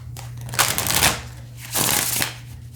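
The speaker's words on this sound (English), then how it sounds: "In today's reading, we will be shuffling on camera." Tarot cards shuffled on a cloth over a table, two bursts of soft riffling swishes, the second after a short pause, with a low steady hum underneath.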